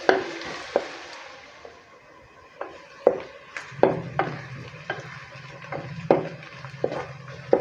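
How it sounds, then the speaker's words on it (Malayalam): Onions sauté with a sprinkle of salt in a pan: a soft, low sizzle under repeated sharp scrapes and taps of a spoon stirring at an uneven rhythm, close by and with no talking. "സവാള ഒന്ന് പെട്ടെന്ന് വഴന്ന് വരുന്നതിനായിട്ട് നമുക്കൊരല്പം ഉപ്പുപൊടി വിതറി കൊടുക്കാം"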